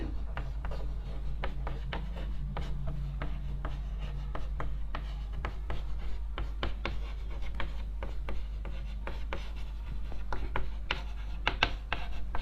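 Chalk or marker scratching steadily across a classroom board during a physics lesson, a run of close, crisp strokes and taps with a low room hum underneath and no talk.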